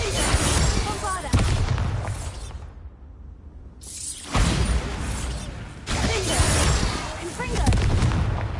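In the Hogwarts Legacy video game, a Bombarda spell explodes. Loud, broadband blasts and crashing bursts arrive in several waves, separated by a brief quieter gap.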